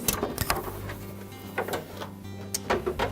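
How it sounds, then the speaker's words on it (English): A plastic ice bin in a Frigidaire refrigerator slides into place with scraping rattles, bumping and clicking several times as it locks in, close and moderately loud with no one talking. "And just slide the bin all the way in, making sure that it locks in place."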